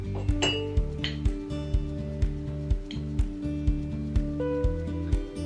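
A spoon clinks against a mug as self-raising flour is added, with a run of light metallic taps and chinks repeating at a steady rhythm over a low background hum, close by and with no talk.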